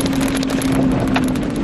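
Strong tornado-storm wind blasts against the microphone as a constant roaring rumble with a steady hum, recorded from a vehicle during a Texas storm chase, with no one speaking.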